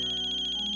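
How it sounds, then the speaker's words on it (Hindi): A telephone ringtone chirps in a quick, even pulsing pattern indoors at home, loud and close, then cuts off abruptly after under a second, with no one speaking. "अरे फोन,"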